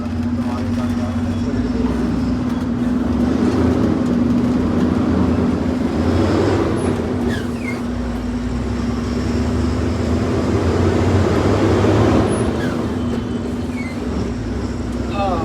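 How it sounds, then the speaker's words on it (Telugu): Road traffic on a highway approaching a border checkpoint on the way to Solapur, a steady loud drone of passing vehicles with engine rumble and a sustained low hum, continuous throughout with brief higher whines. "బండ్లు వెళ్తుంది"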